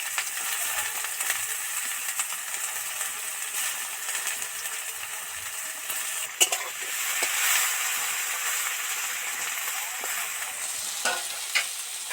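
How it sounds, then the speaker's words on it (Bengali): Sliced onion pieces fry in a pan in a continuous bright sizzle, broken by a few sharp clinks and scrapes of stirring and a brief swell of louder hissing partway through. "একটু টুকরো টুকরো করা পেঁয়াজটা এর মধ্যে ছেড়ে দিচ্ছি"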